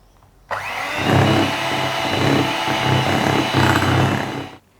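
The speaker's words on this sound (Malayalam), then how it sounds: "ബാക്കിയുള്ളതും കൂടി ഇട്ട് കൊടുത്തിട്ട് നമുക്ക് ചെറുതായിട്ട് ബീറ്റ് ചെയ്യാം കേട്ടോ" An electric hand beater whirs steadily through Christmas cake batter, a continuous motor drone with a softly pulsing low churn that starts abruptly and runs loud for about four seconds before cutting off.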